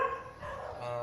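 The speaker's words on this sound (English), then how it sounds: "Sorry about the dogs. I don't know why they're barking" Dogs barking in the background indoors: a couple of short, muffled barks and yips in quick succession, fairly distant, with no speech over them.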